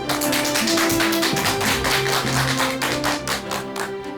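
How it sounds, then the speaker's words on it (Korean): An audience gives loud applause welcoming a psychiatrist guest speaker onto a lecture stage, dense continuous clapping with distinct hand claps throughout and a tonal hum beneath. "큰 박수로 모시겠습니다"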